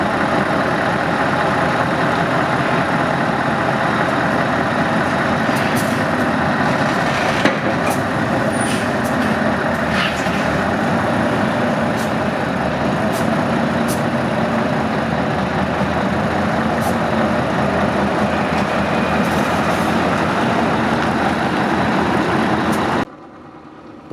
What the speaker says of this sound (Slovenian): Po 3 mesecih ga je zgodaj zjutraj vžgal in v prvem poskusu speljal s tesnega dvorišča.